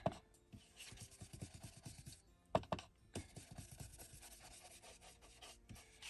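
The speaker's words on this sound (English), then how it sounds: "Now, we'll just go ahead and distress this edge." Edge of a paper index card folio being distressed, a close, dry rasping and rubbing in repeated short strokes with brief pauses and a few soft knocks, no talking.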